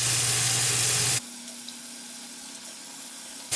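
Cold tap water runs loudly into a sink for about a second while someone rinses their face, then cuts off abruptly, leaving a quiet hum before a brief resumption at the end.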